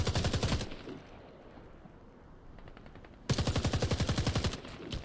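Assault rifle fire in the Warface video game, two loud close bursts of fast, evenly spaced shots separated by a quieter gap with faint distant gunfire.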